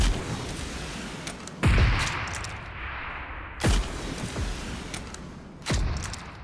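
Three heavy booms of rocket launcher fire and explosions in PUBG Mobile, each a sharp blast with a rumbling tail, spaced about two seconds apart over steady background noise, with no talking.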